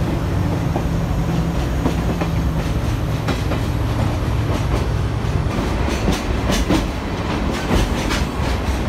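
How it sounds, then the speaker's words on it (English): A train runs steadily along rails in Japan, near and loud, its rolling rumble and rhythmic clatter of wheels over track joints continuing throughout with no voices. "The view of the romantic train."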